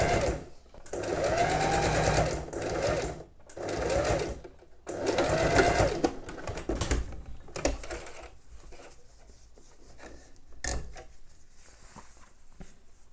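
A domestic sewing machine stitches bias binding in several long whirring bursts separated by short pauses, close and clear, followed by quieter handling sounds.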